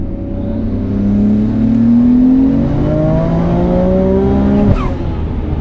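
A car engine revs and climbs steadily under load in third gear from low revs, the pitch rising smoothly for several seconds before a brief change near the end.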